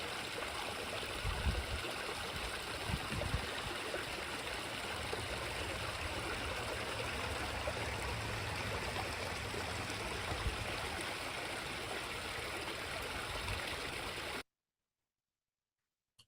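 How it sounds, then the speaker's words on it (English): Water from a constructed stream and waterfall runs through a duck aviary pool, a continuous close rushing and trickling with a few louder splashes early on, then cuts to silence near the end. "So we tried to mimic that within this aviary by providing a stream and waterfall throughout their pool."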